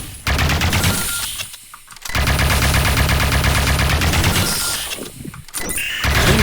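Sustained rapid chain gun fire in the top-down shooter Neon Chrome, a dense, loud mechanical rattle that cuts out briefly near the two-second mark and again around five seconds before resuming.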